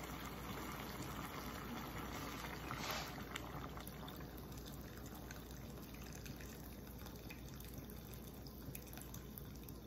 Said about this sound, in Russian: Наливаем горячую воду.